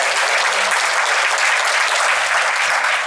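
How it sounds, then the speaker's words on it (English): Full, loud audience applause at a senior breakfast event, a dense even wash of clapping that holds steady from start to finish. "so can we give a round of applause for Keone?"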